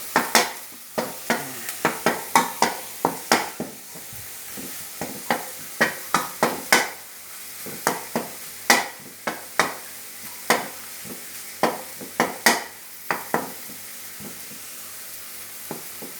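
Spoon scrapes and clacks rhythmically against a pot as Thai chili paste fries and sizzles in coconut milk for a pork and pumpkin curry, the strokes steady and close.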